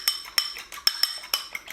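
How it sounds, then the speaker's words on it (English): A fork beats two eggs in a bowl for a chicken katsudon, giving a quick run of sharp metallic clinks against the bowl in an uneven rhythm, close and fairly clear, with no talking. "Next thing that we need to do is beat the eggs."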